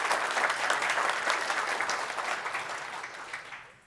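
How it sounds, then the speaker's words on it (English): Conference audience applauding a new team member at a PyData London 2022 talk, a steady dense wash of clapping from many hands that slowly fades toward the end, no voices over it. "please give her a round of applause"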